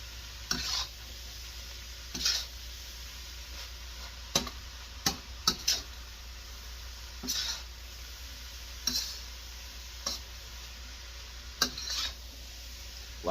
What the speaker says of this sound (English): that's when it's time to go ahead and put in the cauliflower.